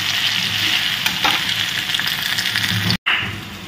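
Vegetables frying in a pan of hot oil during home cooking give a steady, close sizzle and crackle that runs unbroken, with a brief cutout near the end and no talking.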